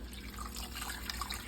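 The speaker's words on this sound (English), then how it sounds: "a pint of water in there." Water pours steadily into a cooking pot of seasoned venison shanks, a continuous soft splashing and trickling wash heard close up at low volume with no talking.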